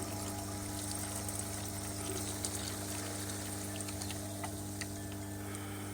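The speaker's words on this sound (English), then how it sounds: "there's the water going up, look" Water trickles and flows steadily into a pipe being pressurised, a continuous gentle pouring sound over a steady low mechanical hum, with no talking.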